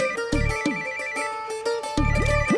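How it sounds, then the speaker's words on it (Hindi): A phone ringtone rings loudly and close, a bright repeating electronic melody with steady sustained tones and recurring pulses, heard alone with no talk. "पाजी गुड्डू दे फोन पे प्राइवेट नंबर"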